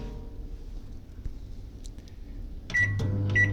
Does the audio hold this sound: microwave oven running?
yes